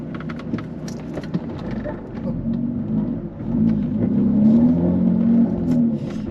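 Jaguar F-Type with a manual gearbox driving in a low-speed zone in a high gear, its engine a steady low drone that swells in the second half, with road and cabin noise and no talk.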